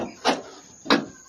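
An old car door, heavy and handled as scrap metal, gives two dull metallic clunks about half a second apart. The sounds are fairly close and nobody speaks.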